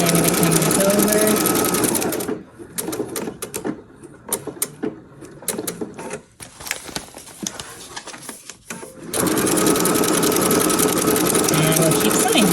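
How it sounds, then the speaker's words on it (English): A domestic sewing machine stitches fabric for a child's fairy dress-up set, running in steady, fast whirring bursts at the start and end, with a talking voice and light handling clicks in the quieter middle stretch. "I'm going to start back over here, and wherever I start again, I'm going to back stitch there."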